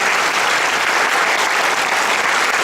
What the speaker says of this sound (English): I think there should also be a round of applause for everybody who performed tonight